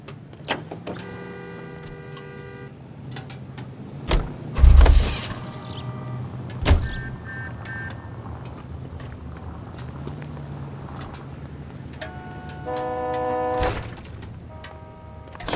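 A car engine hums low and steady while driving in the L.A. Noire video game, with a few sharp mechanical clunks and faint musical tones over the drone, no talk.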